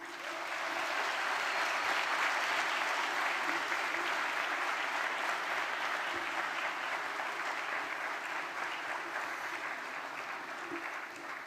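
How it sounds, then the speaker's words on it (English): Audience at a summer graduation ceremony giving a long, even round of applause, dense clapping that swells in the opening seconds and stays strong throughout, fading only slightly toward the end. "Let them hear your heartfelt thanks with a round of applause."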